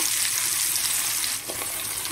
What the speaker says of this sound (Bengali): দিয়ে একদম লাল লাল করে পেঁয়াজগুলোকে ভেজে নেব